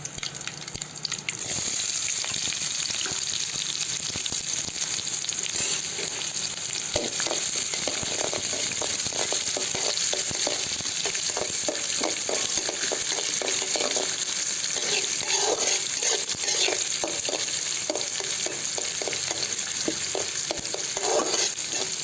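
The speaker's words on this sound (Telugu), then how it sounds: "ఒక నిమిషం పాటు వేయించుకోవాలి" Curry leaves, sliced onions and green chillies fry in a pan for vermicelli upma. A continuous close sizzle runs throughout, with frequent stirring scrapes and no talk.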